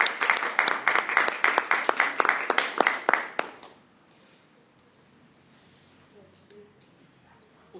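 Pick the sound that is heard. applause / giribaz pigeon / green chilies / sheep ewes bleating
applause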